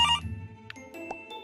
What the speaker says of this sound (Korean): 전화가 왔네